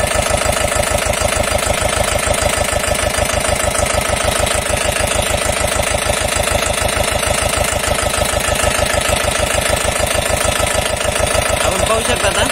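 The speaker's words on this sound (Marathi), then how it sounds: "ट्रॅक्टर एकदम कॉन्स्टंट चालला पाहिजे" A Mahindra Jivo 245di 4WD diesel tractor engine runs at a steady idle after a timing adjustment, a loud, close, evenly pulsing chug that holds constant throughout.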